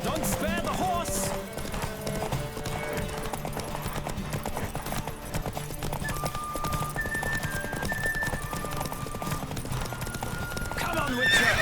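Galloping hooves pound steadily through a horse race in The Witcher 3, with a horse whinnying and a rider's voice calling out over music and game effects, close and continuous throughout.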